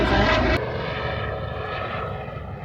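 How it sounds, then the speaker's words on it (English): Helicopter flying overhead outdoors, a steady, broad engine and rotor roar that fades slowly as it passes, with no voices over it. "Helicopter going over."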